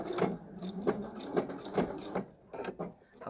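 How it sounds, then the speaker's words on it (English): A sewing machine backstitches through a quilt, giving short uneven bursts of mechanical stitching with brief pauses, close and moderately loud, with no talking. "Okay, and then I am going to backstitch."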